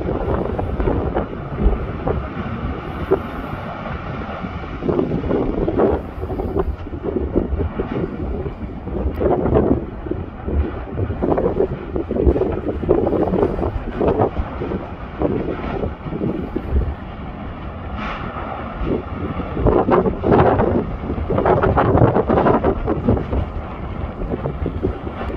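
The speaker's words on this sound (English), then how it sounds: "You can also hear all the noise that is coming from the volcano." The erupting Meradalir volcano in Iceland, with its lava lake, gives a continuous low roaring rumble with irregular surging bursts, mixed with gusting wind buffeting the microphone, sustained over the whole stretch without speech.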